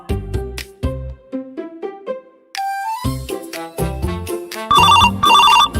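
A mobile phone plays a bright melodic ringtone, loud and close, with the tune repeating in short phrases and no voices over it.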